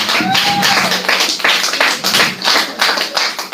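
Congregation clapping together in church during a Wednesday preaching service, dense rapid handclaps filling the room steadily for the whole stretch, loud and close with no voice over them.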